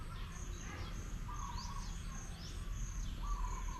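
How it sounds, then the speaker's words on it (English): Birds, apparently pigeons, living inside a Buddhist temple at Wat Athvea in Siem Reap make faint, scattered chirps and calls over steady outdoor ambience with an insect-like hum. "there are actually pigeons living in the temple"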